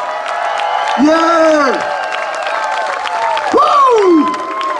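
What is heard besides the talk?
applause and cheering from blues festival crowd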